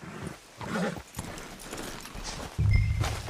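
Horse hooves clip-clop on the ground with a brief whinny and snort, a louder low rumble of movement near the end, in the game Red Dead Redemption 2.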